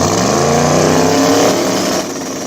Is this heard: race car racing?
yes